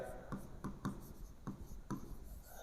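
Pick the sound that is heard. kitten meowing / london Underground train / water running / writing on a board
writing on a board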